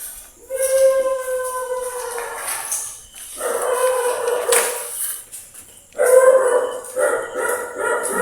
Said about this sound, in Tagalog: May aso sa kabila.